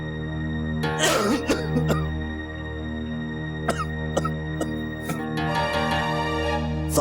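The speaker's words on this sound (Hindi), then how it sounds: "ये खांसी भी ना कम ही नहीं हो रही।" A person coughing repeatedly, a few harsh bursts with brief clearing sounds, heard close over a steady background hum and soft music tones, with no talk.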